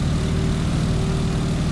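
A Stearman biplane's propeller engine in Microsoft Flight drones steadily and loudly with the prop at full RPM, a constant rumbling hum with no breaks.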